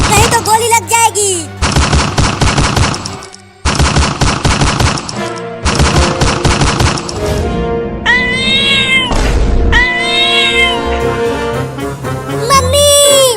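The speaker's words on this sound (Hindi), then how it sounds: "चिंटू, ये बिल्ली बंदूक कैसे चला रही है?" A cat meows loudly several times between bursts of rapid machine-gun fire, with the gunfire in clipped, repeated volleys and the meows near and drawn out.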